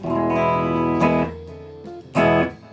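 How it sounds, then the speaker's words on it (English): Electric guitar through a chorus pedal, ringing chords struck twice with a shimmering, doubled sustain that fades between strums, loud and close. "some chorus"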